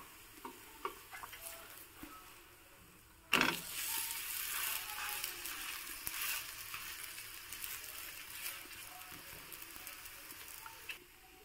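Moong dal cheela batter sizzles and fries steadily in a pan, a bright hissing burst starting after a few quiet seconds and continuing at an even level, with occasional soft clicks.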